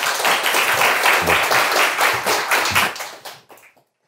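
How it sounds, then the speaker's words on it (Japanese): An audience at an insurtech startup meetup applauds to welcome a presenter, brisk clapping from a moderate crowd that holds steady for about three seconds, then thins to a few scattered claps and stops. "では拍手でおお迎えください。"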